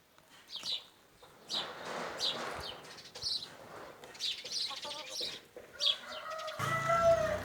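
Newborn chicks on their second day peep in thin, high chirps scattered through the clip, with some rustling and fluttering nearby and a brief burst of other noise at the end.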